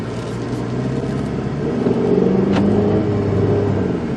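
Chrysler PT Cruiser driving off, heard from inside the cabin: a loud, steady engine rumble and road roar that swells slightly as it accelerates.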